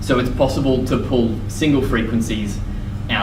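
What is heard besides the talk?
No everyday noise stands out behind the speech.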